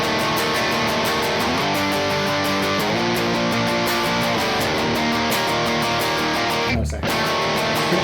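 An electric guitar strums chords through a distorted effects tone, loud and continuous with steady rhythmic attacks. The playing cuts out sharply near the end.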